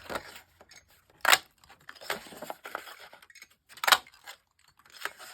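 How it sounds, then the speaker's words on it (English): Scissors snip through heavyweight scrap paper while cutting out circles for a craft folio, giving sharp crisp cuts at irregular intervals with quiet rustling between them, close and fairly soft. "And I'm going to cut out 4 circles."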